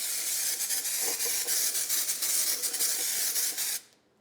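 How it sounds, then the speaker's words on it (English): A can of scanning spray hisses steadily as it coats a Porsche 911 part, a close, continuous pressurized spray with slight pulsing, cutting off sharply near the end. "we're going to go ahead and spray it and show you the difference"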